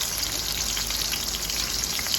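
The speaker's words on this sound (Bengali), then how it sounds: "এক এক করে আমি উচ্ছেগুলো ভেজে নিচ্ছি" Bitter gourd pieces fry with salt in hot oil, giving a dense, even sizzle and crackle that holds steady and close throughout.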